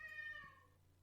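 A domestic cat gives one clear, close meow that slides downward in pitch and fades out.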